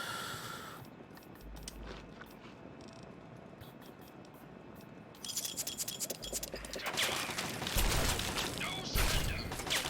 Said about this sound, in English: Gutsy, stop shooting the wall, you moron.